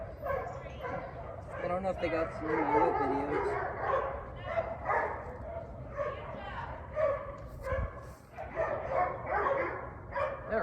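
Several dogs bark, yip and whimper in an ongoing squabble that runs throughout, with someone talking over them the whole time.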